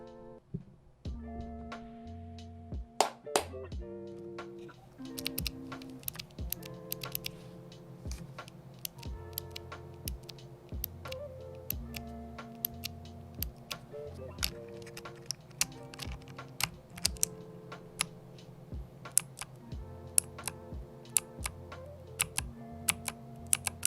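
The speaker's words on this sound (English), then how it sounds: "we're going to be doing a typing test so you can see what the keys sound like in action" Steady typing on a Varmilo MA87M EC keyboard fitted with Ivy V2 clicky switches, dense rapid keystrokes with sharp clicks, close and clear throughout, with no talking.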